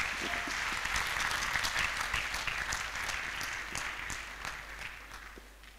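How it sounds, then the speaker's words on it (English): Audience at a graduation ceremony applauding a first guest being introduced, a steady dense wash of many hands clapping, moderately distant and sustained without talk. "A round of applause for our first guest."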